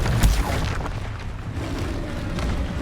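Confringo explosive spell from Hogwarts Legacy, a deep booming blast at the start that rolls into a sustained rumbling, crackling roar.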